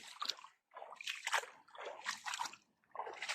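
Water splashes and sloshes in repeated bursts with short pauses between them, close by and fairly quiet, with no talking, flowing through a farm plot after a typhoon.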